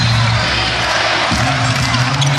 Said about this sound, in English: Crowd has ramped up the energy.